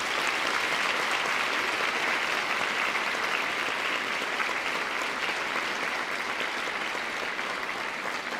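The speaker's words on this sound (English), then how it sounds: "So please join me in one more round of applause for Elliott Funmaker for his blessing" A school district convocation audience gives a sustained round of applause, many hands clapping in an even, continuous roar that holds steady throughout at a moderate distance.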